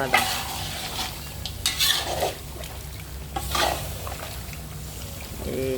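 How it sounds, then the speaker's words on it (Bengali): Beef mixed with spices is slowly stir-fried in a pan, with soft sizzling under repeated scraping strokes of a spoon against the metal, close and moderately loud, with no talking. "এখন আস্তে আস্তে কষাইনি"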